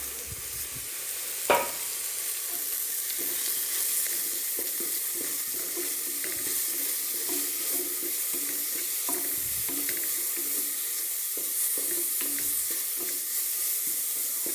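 Turmeric, chili and coriander powders with salt and garam masala sauté in a pan, a continuous soft sizzle with occasional scraping stirs and one sharp clink early on.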